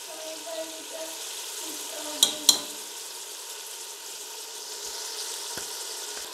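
Spinach and mutton for paalak gosht sizzle in a pan with a steady, soft hiss, broken by a couple of brief clinks of a stirring utensil, with faint voices in the background.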